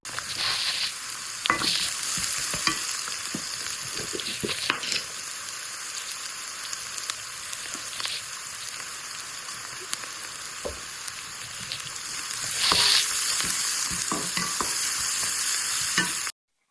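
Onions frying in a pan while preparing fish pulusu, a steady bright sizzle and crackle with scattered pops and occasional stirring scrapes that swell louder near the end; no voices.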